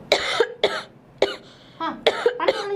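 A person coughs in several harsh, separate bursts, about five or six close-up hacking coughs spaced over a few seconds with brief pauses between them.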